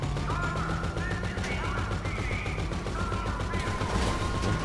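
Gunfire in GTA 5 Online, rapid automatic bursts rattling close and loud over a busy game background with tonal in-game sounds.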